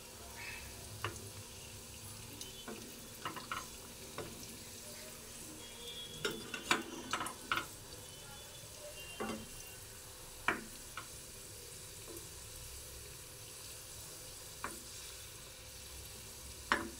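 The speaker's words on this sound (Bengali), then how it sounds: "তেলটা আমার গরম হয়ে গেছে, আমি এবার রোলটা আস্তে করে এর মধ্যে" Cheese roll frying in hot oil, a faint, steady bubbling sizzle broken by scattered sharp crackles and pops throughout.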